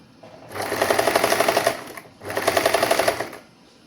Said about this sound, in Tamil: இனி நாங்கள் வந்து இந்த மேல் சட்டை பகுதியை நான் வச்சு தைக்க போகிறேன்